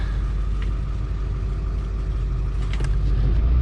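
A 2002 Ford F350 single-rear-wheel pickup with the 7.3L diesel rumbles steadily at speed on the road, its heavy low engine drone continuous and loud throughout with a slight rise near the end.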